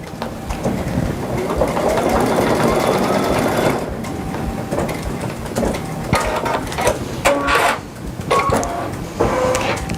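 An embroidery machine stitches a towel end with a steady, busy mechanical chatter and rapid clicking. The sound is close and fills the whole stretch, shifting slightly in tone partway through, with no voices.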